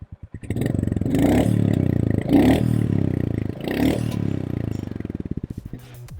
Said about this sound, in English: let's listen to the exhaust note of this motorcycle